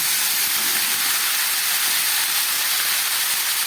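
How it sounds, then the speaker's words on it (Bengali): Vegetables for a chorchori frying hard in a pan: a dense, even, loud hiss of sizzling that holds steady with no pauses throughout. "এবার এটাকে খুব ভালো করে কষিয়ে রান্না করব"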